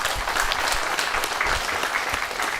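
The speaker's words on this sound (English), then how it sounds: "So I would request all of you to give a big round of applause to the organizing team." A conference audience at an industry–academia conclave gives the organizing team a round of applause, sustained even clapping from many hands throughout, with no speech over it.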